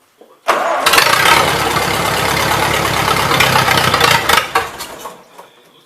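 A Massey Harris 30 tractor engine with smoked wiring cranks briefly, catches and roars into a loud, steady run close by, then settles and sputters slightly near the end.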